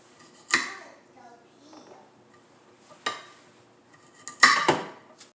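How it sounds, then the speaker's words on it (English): A knife cuts the roots off asparagus spears on a plate, giving a few sharp, separate chopping clicks against the plate, close and fairly loud, spaced apart with quiet between them. "just use a knife to remove the roots. And you just cut it off and discard the roots"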